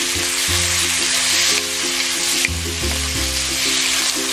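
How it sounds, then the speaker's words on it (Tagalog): Pork sizzling and frying in a hot pan, a steady crackling hiss with a few bursts as the meat is stirred, close and alone with no talk. "Now let's add our pork."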